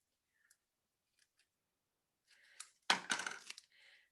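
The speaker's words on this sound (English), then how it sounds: "My scissors aren't playing nice with me today." Blunt scissors snipping through craft ribbon: a few faint clicks, then a louder crunchy cut and a short rasping snip, close up in a quiet room.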